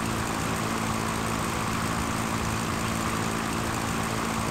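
A propeller airplane engine in the Sierra Pro Pilot flight simulator drones at a constant, loud, unbroken pitch throughout, with no talking.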